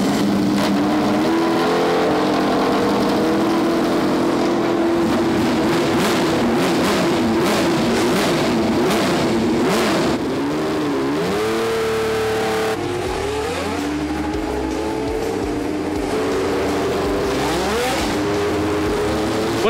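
Historic racing cars at the Monaco Historic Grand Prix rev and roar loudly and continuously on the grid, engines blipping and rising in pitch with overlapping throttle bursts from several nearby cars.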